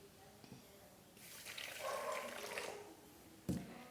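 Warm water poured into yeast in a stand-mixer bowl while making healthy bread with mixed flours, a soft splashing pour building over about two seconds, then a brief clink near the end.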